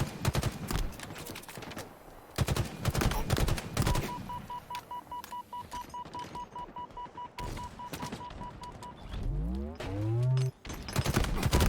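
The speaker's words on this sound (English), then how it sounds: "2 players down for Team Nick, but Nick is firing off right now." Gunfire and grenade blasts in a multiplayer shooter tournament match: sharp, irregular bursts of shots and thumps, with a steady beeping tone through the middle and a swooping, descending whoosh near the end.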